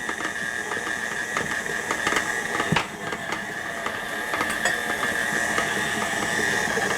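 An electric mixer beats chocolate caramel thumbprint cookie dough, producing a continuous whirring motor hum with a grinding, ratchety texture that stays steady and close throughout.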